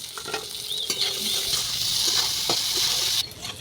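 Potatoes and cabbage fry in a pan with tomato, green chilli, salt and turmeric, giving a steady broadband sizzle broken by a few scraping stir strokes. It stays close and even throughout, then softens briefly near the end.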